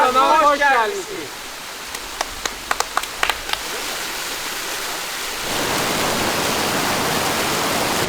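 A waterfall in the mountains near Sheki, Azerbaijan, whose name means green moss, comes in as a steady broad rush of falling water in the second half, after a brief voice and a few sharp clicks.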